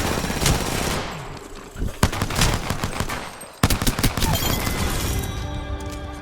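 Rapid automatic gunfire from Apex Legends arena match, dense bursts of shots with sharp cracks and impacts throughout, loud and chaotic, with a brief pause before another volley.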